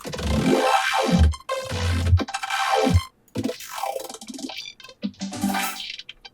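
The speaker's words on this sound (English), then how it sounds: "Vocoding bass sounds to supersaws is again a very common technique for color bass." A growly bass vocoded to supersaws gives a loud, wobbling color-bass line with sweeping filter arcs and choppy rhythmic bursts, carrying a brighter chordal sheen, heard alone with brief pauses.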